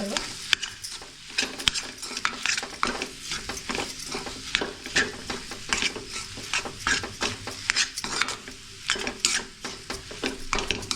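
Spice powders (garam masala, coriander powder, turmeric) are stirred into a mixture in a pan while making potato-semolina momos: steady scraping and clinking of a spoon, a soft sizzle running underneath.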